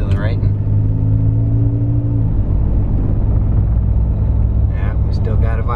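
A Toyota Tacoma pickup accelerates on a test drive while a vibration problem is checked after new tires are fitted. A steady, close, low engine and road rumble fills the cab throughout.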